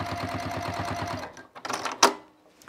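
A home sewing machine with a size 14 needle stitches through six layers of fabric in a fast, even run of rapid needle strokes. It then stops, followed by a few clicks and a sharp clack.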